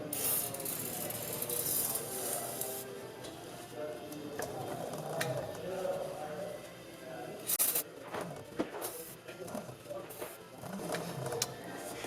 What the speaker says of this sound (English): Twist the sprocket to apply it to the whole chain.